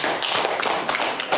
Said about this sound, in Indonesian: Terima kasih, tepuk tangan buat Bima.